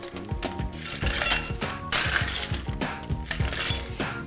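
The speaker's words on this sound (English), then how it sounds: "We're gonna now fill this with ice." Ice cubes clattering and clinking into a cocktail glass, a dense run of sharp glassy knocks over a few seconds, close and loud with no talking.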